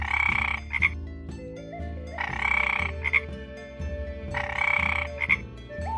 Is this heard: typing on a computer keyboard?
no